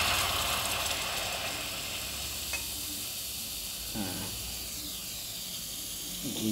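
Liquid poured onto zinc in a chemical reaction, giving a steady broadband hiss and fizz that runs the whole time at moderate level, with faint background noise and no speech.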